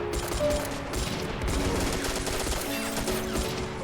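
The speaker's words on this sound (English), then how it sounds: "Exchanging fire from the windows at the other side of the road as well." Rapid bursts of gunfire trade back and forth between houses and windows across a road in the video game Army Men of War, dense and continuous, with the rattles overlapping one another.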